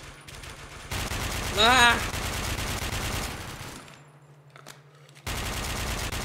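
Gunfire in the video game WARMODE comes as rapid bursts that fill most of the clip, drop off briefly, then resume. A man gives a short shout over the shooting.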